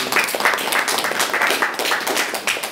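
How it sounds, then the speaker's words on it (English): Audience applause at the Kennedy Center, a steady patter of many hands clapping at moderate volume, continuous throughout without voices. "Let's give him a round of applause."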